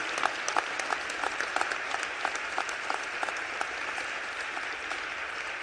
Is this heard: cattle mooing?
no